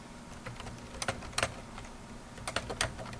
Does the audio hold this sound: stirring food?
no